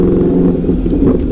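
Ducati Streetfighter V4S naked motorcycle riding on a city street: a loud, close, continuous engine roar with a rough, pulsing low growl, heard alone without talk.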